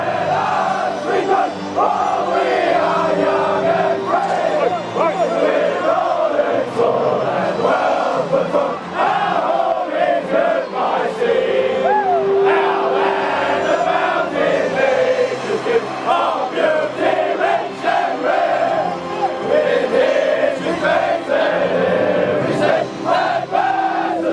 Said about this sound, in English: you won't hear the national anthem sung too often like this